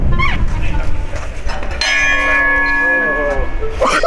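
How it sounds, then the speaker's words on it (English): One loud gong strike rings out, and its bright, sustained tone slowly decays over a noisy background with voices. "No, that's a really loud gong."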